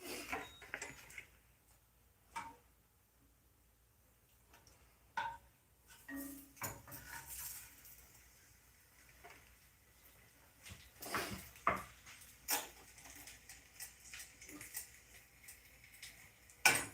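A non-stick pan and cooking utensils being handled in a home kitchen while lamb tacos are made, giving sparse clanks and clicks with quiet gaps between them.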